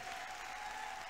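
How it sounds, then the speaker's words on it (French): A congregation claps in church, a faint, even wash of applause with a thin steady tone running beneath it. "Clap your hands for the Lord."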